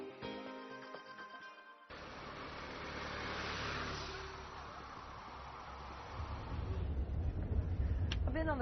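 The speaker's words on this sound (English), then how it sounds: "I've been on the bus for about 2 hours now." Inside a moving bus on the road to Wanquan River, a steady low engine drone and road rumble. A quieter, rougher stretch comes first, and the rumble grows heavier near the end.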